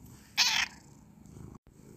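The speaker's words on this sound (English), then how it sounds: "And that's my cat." A pet cat gives a single short, bright meow near the mic, followed by low, faint purr-like rumble and quiet room noise with a brief dropout.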